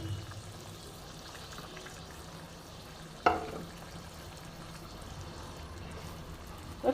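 Fried pointed gourd pieces drop into simmering dal with one soft splash partway through, over a steady low bubbling and hiss from the pot.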